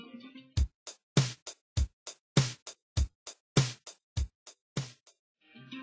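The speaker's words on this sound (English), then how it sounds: "the rhythm is typically expressed by one dominant drumming pattern" A dry drum pattern plays alone, with sharp kick and snare hits in a steady, repeating groove that ends after about five seconds.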